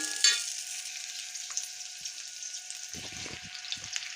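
Onion and green chili fry in a pan with a steady, soft sizzle, a brief louder crackle near the start and a few low knocks of stirring toward the end, with no voices.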